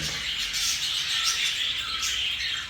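A cockatiel among a flock of caged birds gives a harsh, bright squawk, with more chirps and calls blending into a dense, high-pitched chatter close by.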